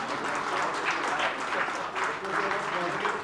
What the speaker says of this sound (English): we are not showing any energy in our applause.